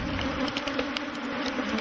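Dense, steady buzzing of many bees swarming around African beehives as honey supers are removed, a continuous near drone with no talk.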